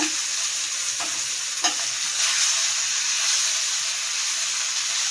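Fish frying in a pan just after being turned over, sending out a bright, steady hiss of sizzling oil with a couple of soft clicks near the start, close and continuous with no talk.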